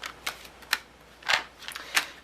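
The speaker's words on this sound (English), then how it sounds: "Get shuffling up for you guys right away." A deck of tarot cards is shuffled close by, giving a handful of short, crisp riffling bursts at uneven intervals over a quiet background.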